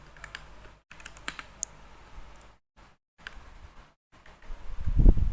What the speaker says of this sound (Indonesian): kita ketik print